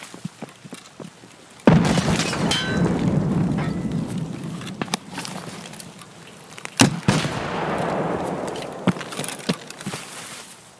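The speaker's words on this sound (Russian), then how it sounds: "граната!" A grenade blast in Escape from Tarkov, heard as a sudden loud boom with a long rumbling decay, then another sharp burst several seconds later. Scattered shots and pops fill the space between the two blasts.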